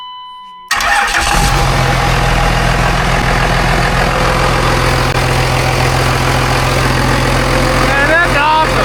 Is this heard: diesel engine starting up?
yes